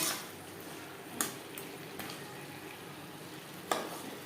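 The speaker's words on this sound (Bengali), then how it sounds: "হাই ফ্লেমে আরও 2-3 মিনিট নাড়াচাড়া করে নেব।" Katla fish curry with potatoes stirred in a pan over a high gas flame, a faint continuous sizzle broken by a few sharp scrapes and knocks of the spoon against the pan.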